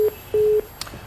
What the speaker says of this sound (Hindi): फोन कट गया।